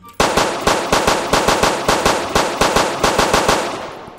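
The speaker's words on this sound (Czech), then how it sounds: "Proč ty střely jsou tak hlasitý?" Rapid bursts of loud gunshots fired in a Roblox police simulator game, a steady rhythmic volley of about fifteen sharp cracks close up, with no talk over them.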